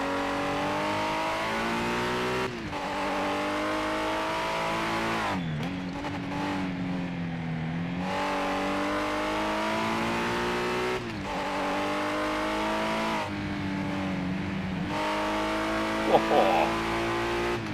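A Capri race car in the PS5 game Project Motor Racing screams through repeated gear changes, its engine pitch climbing and dropping with each shift, with a brief tire squeal near the end.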